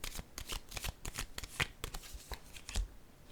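Tarot cards being shuffled by hand, a quick run of crisp riffling flicks and soft slaps repeating close up with no voices.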